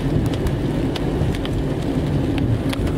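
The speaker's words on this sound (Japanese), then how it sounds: "こんだけ雨降っとってね" Heavy rain falls steadily on a street beside a park, making a dense, continuous hiss with a low rumble that may be passing traffic, and no voices are heard.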